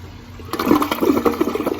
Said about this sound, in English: Now what's going to happen is Mr. P's going to flush this